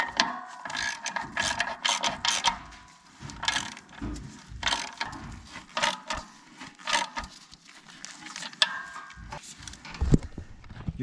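Rapid ratcheting clicks from a hand tool tightening a nut on a tractor, close and steady in irregular bursts with brief pauses, no talking.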